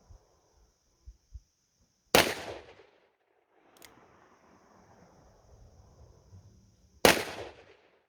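Two loud, sharp Smith & Wesson Model 27 revolver shots ring out several seconds apart outdoors, each with a brief echoing tail, with faint clicks and rustling between them.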